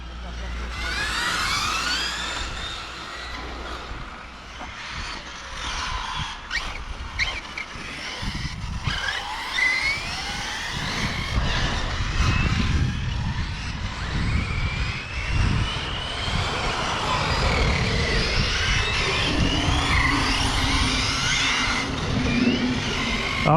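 A 1/8 scale RC buggy on Proline Toyo tyres, running an older 6S 40C battery, drives a warm-up lap with a steady high-pitched motor whine, rising and falling with speed, loud and continuous, with brief tyre scrubs.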